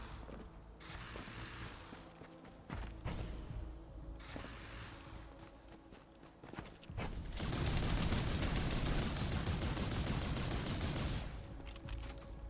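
Missiles launch in the video game Outpost Infinity Siege, a loud, sustained rushing roar that swells in partway through, after mechanical clicking and ratcheting sounds and scattered sharp bangs.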